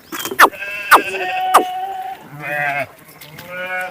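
Sheep on a village farm bleat several times up close, a few sharp cries followed by longer wavering calls, loud and alone without talk.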